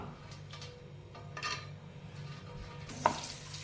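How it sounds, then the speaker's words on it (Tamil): Cashews and raisins roasting in ghee in a pan for carrot halwa, a soft steady sizzle with occasional stirring scrapes and one sharp utensil clink near the end. "இப்போ நமக்கு முந்திரி பருப்பும் உலர் திராட்சையும் லைட்டாக ரோஸ்ட் ஆயிடுச்சு"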